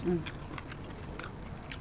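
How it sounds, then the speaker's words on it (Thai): Close chewing of a Thai curry cooked with cow skin and khi lek leaves, soft wet mastication with a few crisp bites at irregular intervals, speech faintly present. "เคี้ยวก่อนนะเคี้ยวก่อน"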